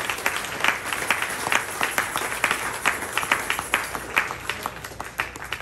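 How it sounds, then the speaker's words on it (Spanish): Sustained applause from a church congregation, dense overlapping claps with steady energy throughout, fairly close and loud. "Le dan un fuerte aplauso al Señor"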